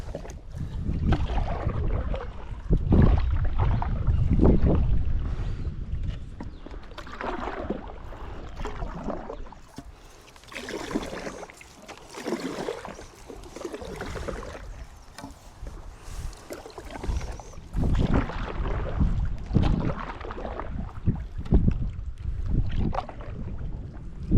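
Steady wind buffets the microphone during a kayak trip, a loud, gusting rumble that swells and fades, with occasional splashing from the paddle and the boat moving through water.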